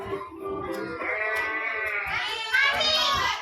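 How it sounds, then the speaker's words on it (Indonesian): Sheep bleating in a long, wavering, quavering cry that rises in pitch, close and clear, with a voice nearby. "Ini adalah domba. Bahasa Inggrisnya adalah sheep."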